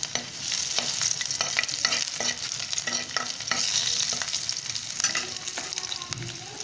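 Green chilli and ginger frying in a pan of hot oil with garlic and cardamom for shahi paneer, a continuous close sizzle broken by repeated spoon scrapes and stirring clatter.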